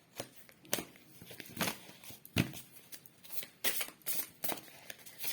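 Tarot cards are shuffled nearby: a series of soft riffling and slapping bursts at irregular intervals, about eight strokes, fairly quiet with a little room noise between them.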